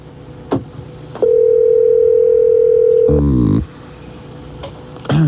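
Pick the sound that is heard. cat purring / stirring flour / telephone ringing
telephone ringing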